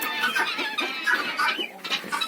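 Chickens cluck in a poultry yard with turkeys and roosters, a busy run of close, rhythmic clucks and murmurs from several birds.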